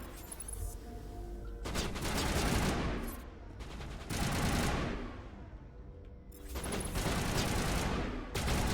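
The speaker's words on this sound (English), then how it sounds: "you pirates take a lot of shots" Sustained bursts of gunfire aimed at pirates in Mass Effect, rapid volleys coming in three or four loud, dense waves with brief lulls between.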